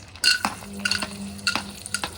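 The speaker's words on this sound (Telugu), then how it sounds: "అది కూడా ఇలాగా ఒక సెకండ్ నేతిలో వేయించాలి" Raisins frying briefly in ghee in a pan, a close soft sizzle broken by sharp spoon scrapes and metallic clinks as they are stirred, lasting only a couple of seconds.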